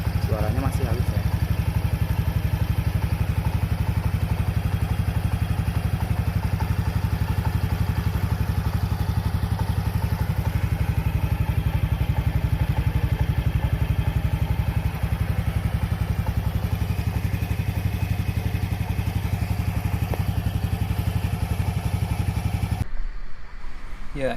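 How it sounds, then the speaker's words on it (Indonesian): A Yamaha Freego S scooter after a year of use runs at a steady idle, a continuous low mechanical hum with faint clatter throughout, close and even, before cutting off at the very end. "itu tadi kondisi dan suara motor saya setelah dipakai selama setahun"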